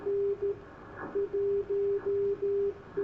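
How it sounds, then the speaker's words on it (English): Morse code keyed on shortwave radio near 4477.5 kHz in upper sideband mode: a steady tone in clean, regularly spaced dashes over faint background hiss, with no voices. "I've never heard Morse code there."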